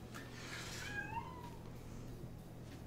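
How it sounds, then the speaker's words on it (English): A house cat gives one drawn-out, wavering meow, faint and somewhat distant, over a steady low background hum with no talking. "you might hear my cat making some strange noises"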